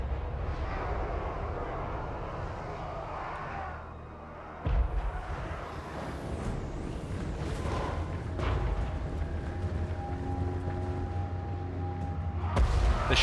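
Organ guns fire in a Total War Warhammer battle, a dense roar of booming artillery and gunfire layered over constant battle noise, with a sharp blast midway and louder volleys near the end.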